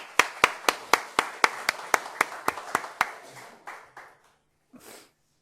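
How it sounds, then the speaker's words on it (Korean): A church congregation claps in a crisp, regular rhythm of about a dozen distinct hand claps that slowly thin and fade, followed by a brief trailing sound. "우리 박수 한번 보냅시다."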